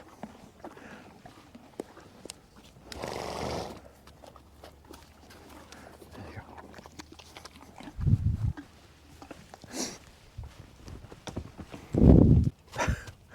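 Faint outdoor rustling and shuffling with a few louder snorts and bursts of movement from nearby large animals, sporadic and uneven.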